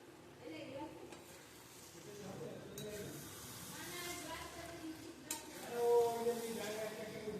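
Ground garam masala being stirred in a frying pan with a spoon, making soft scraping and a gentle sizzle, quiet and close, with a brief louder clatter near the end and a voice speaking intermittently over it.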